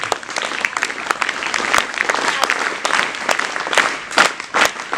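Audience applause at a gathering in a hall, dense steady clapping with scattered sharper claps throughout, close and fairly loud with no voices over it.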